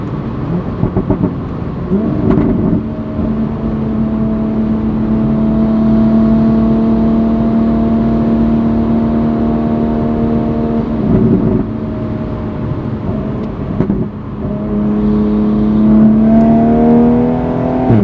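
A Toyota Supra with a DCT gearbox coded for faster shifting accelerates hard, its engine note climbing loudly and cut by several sharp, abrupt gear changes over about eighteen seconds.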